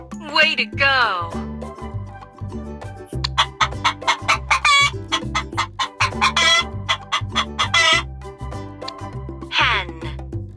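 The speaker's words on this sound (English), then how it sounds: "Hen." A farmyard hen clucks in a run of short choppy bursts, loud and up front, set over a cheerful looping tune with a few sharper squawks scattered through.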